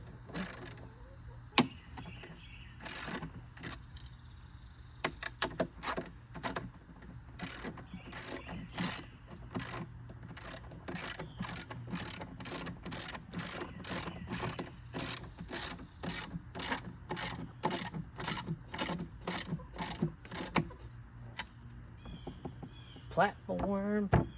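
A ratchet wrench tightens bolts on the swim platform of an abandoned ski boat under repair, sharp clicking strokes repeating in quick, even bursts close by, with a voice speaking at times.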